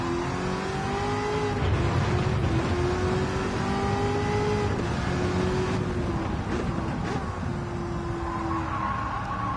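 A race car engine in Gran Turismo 7 hums and rumbles steadily, its pitch climbing and dropping through several gear shifts across the run, loud and close with no talk over it.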